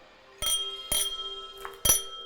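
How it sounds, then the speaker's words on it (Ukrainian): Three bright, clear rings of a crystal wine glass being struck, each ringing out with a sustained shimmering tone, with a pause between strikes. "дзвін, дзвін такий, типу дзін-дзін"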